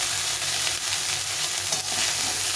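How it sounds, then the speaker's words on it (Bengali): Small chanda fish frying in a little oil in a pan, a steady close hiss and crackle of sizzling that fills the whole stretch with no talk. "এখন এটা উল্টে দিয়ে অপর দিকটা ভালো করে ভেজে নিতে হবে"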